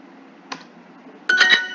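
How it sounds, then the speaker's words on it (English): A few keystrokes on a computer keyboard as an answer is typed, one isolated tap followed by a quick cluster of clicks, close and fairly quiet. "So let's type our answer."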